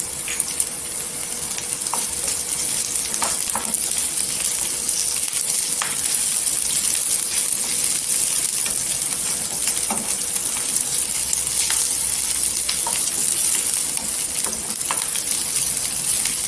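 Curry leaves crackle in hot oil with ginger, garlic and green chilli for a cucumber bhaji, a steady close sizzle dotted with small pops and occasional spoon clicks.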